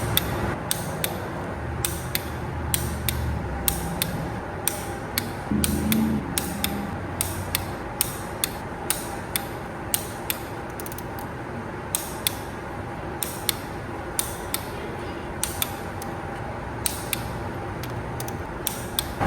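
Ratcheting torque wrench tightening cylinder head bolts on a Duramax diesel engine being built for a boat, giving steady rapid clicking with sharp periodic snaps over a low workshop hum, close and moderately loud.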